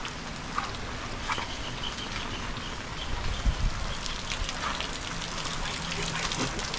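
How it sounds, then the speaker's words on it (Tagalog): Rain falls at a camping site in a steady, soft hiss with scattered drops, fairly faint, with a few low thumps and muffled sounds partway through. "umuulan kasi"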